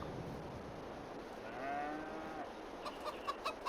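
Farm animals in Farming Simulator 22, a faint drawn-out cow moo followed by a few soft, short chicken clucks over a quiet background.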